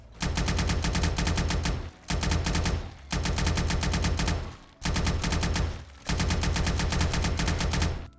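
A tactical assault rifle resembling a rarer AK-47 fires in 7 Days To Die, five sustained full-auto bursts of loud, rapid, evenly spaced shots separated by brief pauses, with no voices.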